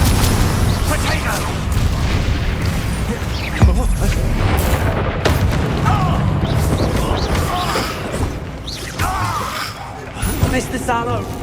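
Explosive spell blasts in the Hogwarts Legacy video game, with loud, booming, crashing bursts layered over continuous game noise and a person's voice shouting throughout.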